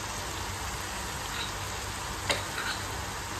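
Masala and oil sizzling steadily in a pan as the spice paste is roasted for home-cooked chicken, a constant close frying crackle with one faint tick of a utensil.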